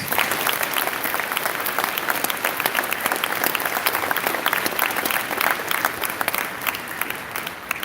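A sustained round of audience applause at a school Veterans Day assembly honoring staff and alumni veterans, many hands clapping evenly and fairly close for the whole stretch.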